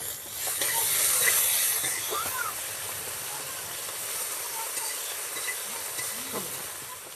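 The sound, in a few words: ginger, garlic and onion paste frying in oil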